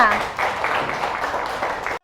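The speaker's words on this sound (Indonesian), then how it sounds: "Kasih tepuk tangan buat 3 terbaiknya." Classroom applause for the top three students, a dense steady patter of many hands lasting a couple of seconds, with a voice briefly audible at the start.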